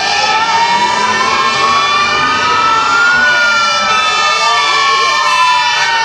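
A fire engine siren wails loudly and continuously, its pitch sliding up and down with overlapping tones, close by, during a street parade in Tarnowskie Góry, Poland.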